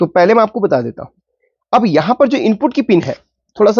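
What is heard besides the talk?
No everyday noises stand out.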